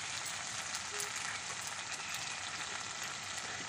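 Spice paste with tomato frying in a pan for a batka fish curry, a steady dense sizzle held at an even level from start to finish, close and fairly loud, with no voices.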